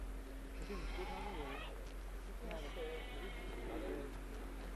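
Goats bleat in a Kashmir village, fed on grass grown on an earthen roof: several wavering bleats come one after another over a steady low hum, faint and a little distant.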